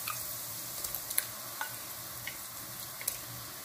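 Steady sizzling of canned tomatoes frying in a pan, with occasional soft scraping and clinks as it is stirred.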